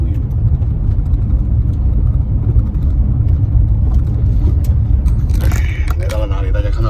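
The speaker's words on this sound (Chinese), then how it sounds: "在这边开车是进了这种社区的50公里的这个时速的这个小路" A car drives along a small residential road with a 50 km/h limit, giving a steady, loud low rumble of road and engine noise, with a short higher rattle near the end.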